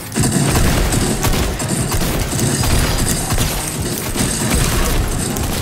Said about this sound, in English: Where are the gunshots coming from?